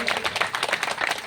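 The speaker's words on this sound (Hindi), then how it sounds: "आप लोग जोरदार तालियां बजाइए" An audience claps together at a devotional bhajan kirtan satsang gathering, a close, lively patter of hands in quick uneven pulses that fills the short moment.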